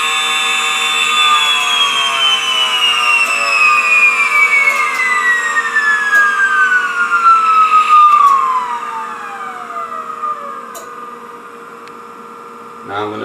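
A small electric motor spinning at roughly 50,000 RPM on about 49 volts gives off a steady high whine that glides slowly downward in pitch as it winds down, over a constant mains hum, with no talking.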